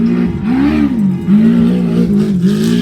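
A Mint 400 trophy truck engine revs hard and close, a loud, wavering roar that rises and falls repeatedly through short bursts, with no voices over it.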